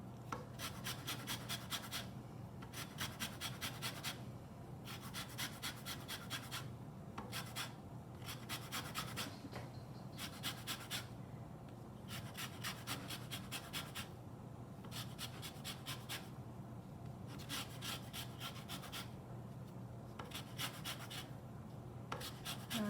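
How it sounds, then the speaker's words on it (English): A whole lemon being zested with a handheld zester, making soft, rhythmic rasping strokes in regular bursts with brief pauses between, close but quiet, with no talking. "gonna do my zester, and I'm gonna zest the whole lemon."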